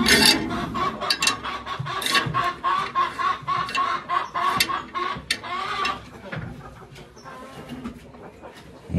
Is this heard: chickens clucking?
yes